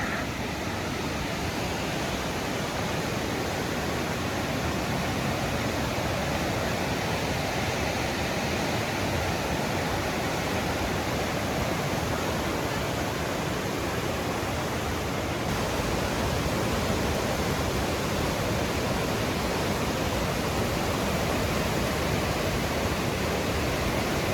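The river at the Falls of Bruar in Scotland rushes in a steady, dense broadband roar of falling water, continuous and fairly loud throughout with no voices over it.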